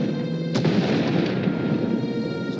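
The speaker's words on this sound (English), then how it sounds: "Sounds like the bombing's getting closer." Heavy bombing blasts rumble at a spaceport on Ord Mantell in a Star Wars video game, with a sharp impact near the half-second mark over a continuous, loud, low booming barrage.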